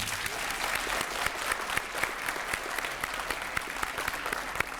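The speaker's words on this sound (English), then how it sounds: "Let's give our veterans a round of applause." Sustained crowd applause at a high school JROTC Veterans Day salute, steady and dense from a large audience throughout, with scattered sharper individual claps standing out in the wash.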